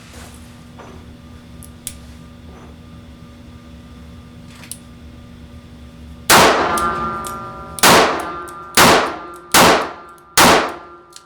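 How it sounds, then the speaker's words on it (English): Five loud sharp shots from a small Wyatt Deep Cover five-shot revolver. They come one after another at irregular intervals, each ringing out briefly, after several seconds of quiet with faint clinks. "There it is, 5 shots out of a little Wyatt Deep cover."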